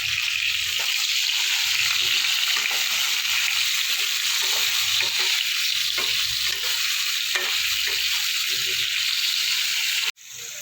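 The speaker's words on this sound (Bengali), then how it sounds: "একটু হলুদ দিয়ে আলুটা আমি একটু ভেজে নেব" Potato pieces fry with salt and turmeric in a pan for a Bengali ridge gourd and rohu fish dish, giving a loud, steady hiss and sizzle with soft stirring scrapes and no talk, then cutting off sharply at the end.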